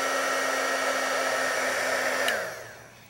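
Embossing heat tool blowing steadily as it melts embossing powder onto a card, a loud continuous airy whoosh with a fan hum that cuts off near the end.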